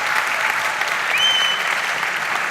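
Steady crowd applause at a startup pitch competition final, a dense even wash of clapping from a large audience, with a brief high whistle partway through.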